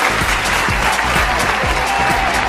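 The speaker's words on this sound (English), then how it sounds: "it ends with a round of" A round of applause follows a song performed on a patio, a sustained patter of many hands clapping at a fairly loud, even level.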